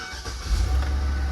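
A 2013 GMC Yukon XL engine cranks briefly and then catches, settling into a steady, close low rumble of idle.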